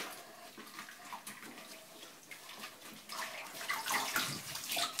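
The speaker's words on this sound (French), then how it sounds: "Donc vous les mettez dans l'eau. Vous les frottez dans l'eau." Gaiters being scrubbed by hand in a basin of soapy water, giving steady close sloshing and swishing that grows louder and more vigorous toward the end, with no one talking.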